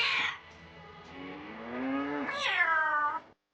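A single drawn-out cat meow, rising and then falling in pitch, close and clear with no other sounds around it.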